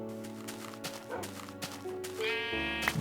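A sheep bleats in Minecraft over a steady bed of layered game music and ambient tones, with a brief higher rising note near the end.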